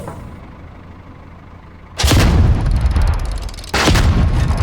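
Two heavy metallic slams of a French artillery gun's breech closing during crew loading drill, each a loud sharp impact with a long rumbling tail, the first at about two seconds and the second near four, no talk.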